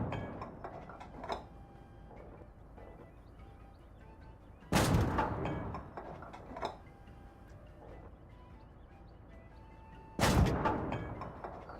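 Tank cannon fire in the Gates of Hell war game: two heavy booming shots several seconds apart, loud and close, over a rumbling, ticking battlefield background.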